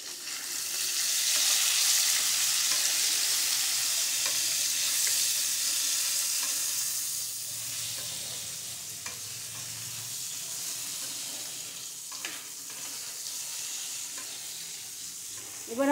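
Salt and turmeric sizzle steadily in hot oil in a pan, a loud bright frying hiss that eases after a few seconds while a utensil stirs with occasional soft scrapes and taps.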